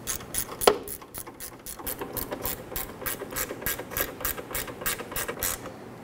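A hand ratchet clicks in quick, regular strokes while tightening the battery J-hooks on a Jeep Wrangler, the sharp metallic pawl ticks close and loud with a single heavier clack early on.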